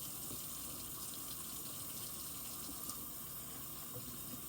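Tap water runs steadily into a sink while pet food and water bowls are washed, a constant close hiss-and-splash flow with no talking over it.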